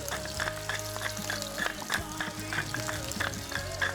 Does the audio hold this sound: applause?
no